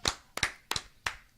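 A few people clapping in a French-language livestream chat show, four sharp separate claps in a slow, uneven rhythm, close and fairly loud with no voices over them.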